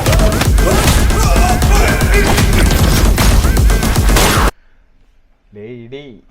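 Rapid gunfire, crashes and fight impacts from the trailer for the 2024 Malayalam action film Turbo pile up loudly for several seconds, then cut to near silence before a brief voice.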